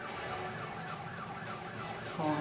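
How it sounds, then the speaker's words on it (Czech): A police car siren wails in a Crash Bandicoot N. Sane Trilogy racing level, a rising and falling tone over steady engine and game noise, moderately loud throughout. "Je, policejní auto, výmony"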